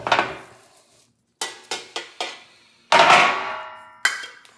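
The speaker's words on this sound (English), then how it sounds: "Put a good lid on it. This happens to be a stainless steel lid" Stainless steel lid clattering onto a metal pot during a pipe tobacco stoving process: a loud metallic clank with ringing decay, a quick series of smaller taps and rattles as it settles, then another heavy clank and a final knock.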